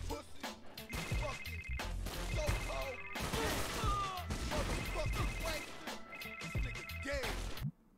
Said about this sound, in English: Another text message.